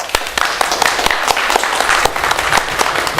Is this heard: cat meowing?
no